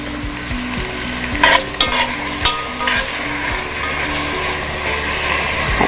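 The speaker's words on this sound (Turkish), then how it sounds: "birazcık soğanın terlemesini bekliyorum şu anda" Onions sweating in a frying pan give off a steady, close sizzle throughout, punctuated by a few brief clicks and scrapes of utensils with no talking.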